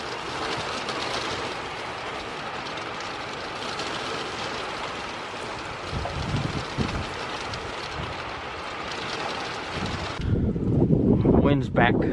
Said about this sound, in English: Wind's back.